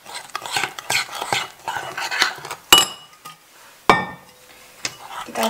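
Milo ice ball mixture made with hot water is stirred in a bowl, giving uneven scraping and clinking of a utensil against the dish, with two sharp knocks partway through.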